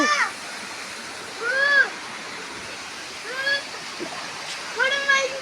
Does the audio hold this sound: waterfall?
yes